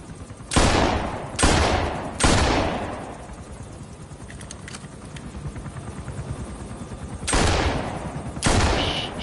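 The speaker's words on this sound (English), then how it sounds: "Shooting between the blades of the helicopter." Heavy gunfire bursts from a helicopter in a Metal Gear Solid V cutscene: five loud blasts, three in quick succession, then a pause and two more, with a rumbling background in between.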